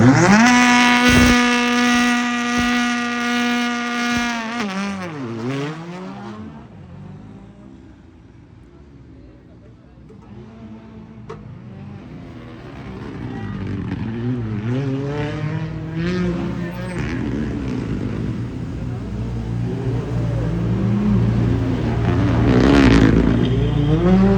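Grégoire Master's rally car on a special stage of the Chablais rally, a loud engine note rising and falling as it passes close, then another approach building with rising revs.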